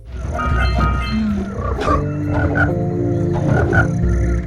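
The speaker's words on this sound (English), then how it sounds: "You hear frogs grogging, birds chirping and rain falling." Loud, close frog croaks from a swamp in the Jak and Daxter video games repeat in a dense chorus over a steady low background, rhythmic and overlapping.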